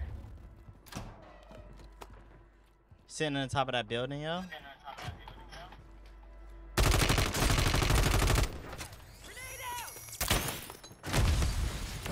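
RAM-7 assault rifle fire in the video game Warzone 3: loud, dense bursts of automatic shots come in two main stretches, mixed with thuds and other game noise, while players talk excitedly.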